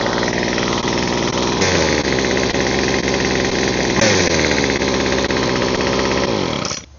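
A small two-stroke weed eater engine runs steadily and loudly after a spark plug cleaning, its rough buzzing drone holding for several seconds with brief dips before cutting off at the end.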